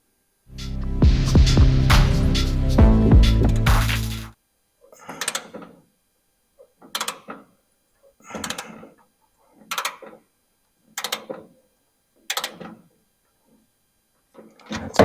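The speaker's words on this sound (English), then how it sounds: "So we're going to go ahead and torque these up, 78 foot-pounds." Bolts on a 1965 Mustang steering box being torqued to 78 foot-pounds: a loud, continuous mechanical grind for about four seconds, then roughly eight short, evenly spaced clicking bursts close by, with no talking.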